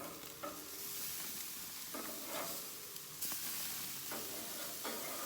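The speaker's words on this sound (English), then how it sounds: "We return to the grill to flip our meat." Hamburger patties sizzle steadily on a grill as they are flipped, with a continuous frying hiss and several brief scraping knocks from the turning.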